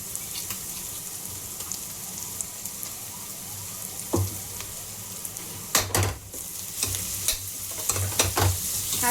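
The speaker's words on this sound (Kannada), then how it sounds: "ಈಗ ಇದಕ್ಕೆ 2 ಚಮಚದಷ್ಟು ಶುಂಠಿ ಬೆಳ್ಳುಳ್ಳಿ ಪೇಸ್ಟ್ ಹಾಕ್ತಾ ಇದ್ದೇನೆ" Ginger garlic paste frying in hot oil in a pan while being stirred, a steady soft sizzle with intermittent louder scraping and clattering stir strokes near the end.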